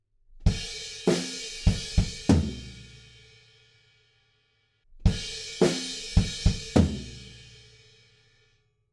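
A drum kit plays the short stop before the second verse of a song: a crashing burst of several quick, accented hits with ringing cymbal decay, played twice, loud and alone.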